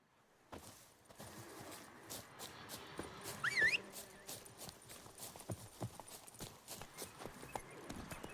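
Horse hooves galloping in The Witcher 3 game, a steady run of soft clip-clop footfalls under ambient game sound, with a brief whinny-like sweep midway.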